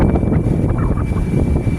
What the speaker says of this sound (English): It's windy like it is now.